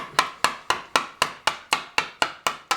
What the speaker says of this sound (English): I'm actually just going to chisel out